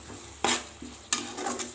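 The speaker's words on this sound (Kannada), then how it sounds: "ಇದನ್ನು ಫ್ರೈ ಮಾಡ್ಕೊಳ್ಳಿ ಚೆನ್ನಾಗಿ." Spices with garam masala frying in a pan for a home-style bitter gourd gravy, stirred with a spoon: two sharp scraping bursts over a faint, steady sizzle, close and moderately loud, with no talking.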